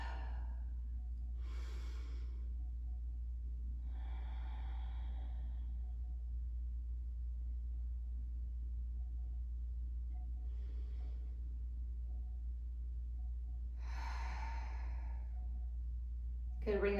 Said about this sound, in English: Continue to breathe deeply.